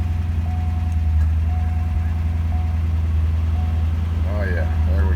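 A Chevrolet Corvette C5 idles after a cold start, giving a steady, loud low rumble that holds even throughout, with faint beeps over it.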